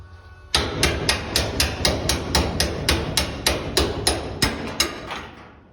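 Hammer blows on the hinge of an old Torana car door in a garage, about fifteen loud metallic strikes in a steady rhythm, close up, with no talking.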